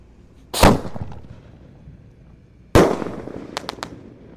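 A 5-inch Bima Sakti firework fires during a Ramadan night, with two loud sharp bursts about two seconds apart, each trailing off into a crackling decay, followed by a few quick pops, and no talking.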